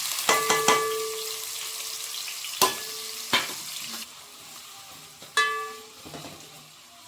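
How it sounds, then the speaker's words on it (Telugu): Cumin and chopped onions hit hot oil and fry with a steady, close sizzle, broken by several sharp clanks of a spoon against the pan and brief bursts of louder crackling. "ఆయిల్ వేడయ్యాక జీలకర్ర కూడా వేసుకోవాలి చిన్నగా కట్ చేసి పెట్టుకున్న ఆనియన్స్ కూడా వేసుకోవాలి"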